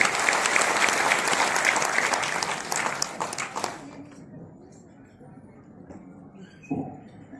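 Audience applause greets a speaker, a woman introduced as sister Anjali Sisodiya, in a hall at a Rajput community gathering; dense clapping for about four seconds, then thinning out to sparse claps and faint murmur.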